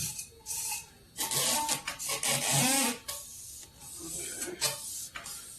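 A strip of sandpaper wrapped around a spinning 5.3 crankshaft journal gives a close, raspy rubbing sound, coming in uneven bursts with short pauses between them.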